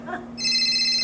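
A phone ringtone starts abruptly after a brief murmur, holding a bright, steady electronic tone at a comedy show.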